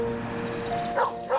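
A dog named Bruno yips and barks in a short Nissan Rogue car commercial, two quick bright barks over a steady music bed near the end.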